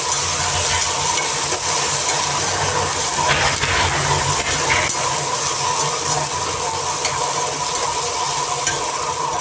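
Onions and tomatoes sauté in a pan for a home-cooked Tamil lunch, giving a steady loud sizzle broken by occasional stirring scrapes, close and continuous with no talking.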